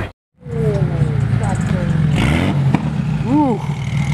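Sports car exhaust revs in short rising blips outdoors among other exotic cars, close and loud, with people talking excitedly over it.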